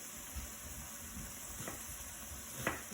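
Half an onion frying in a pan with scrambled tofu gives a steady, fairly quiet sizzle, with a few soft stirring knocks and scrapes and no voices.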